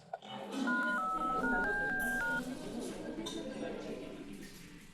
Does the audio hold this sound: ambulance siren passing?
no